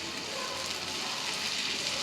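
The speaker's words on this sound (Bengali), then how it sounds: "একটু ভালো করে ভেজে নিব তেলের সাথে রসুন বাটাটা, কিছুক্ষণ ভেজে নেব" Garlic paste fries in hot oil for a small-fish chorchori, a dense, even hiss of sizzling close up, steady and unbroken with no voices.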